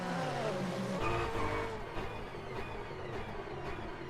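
A GT3 race car on the Imola circuit in a sim racing game, its engine revving and stepping down through downshifts with short blips, moderately loud and continuous without talk.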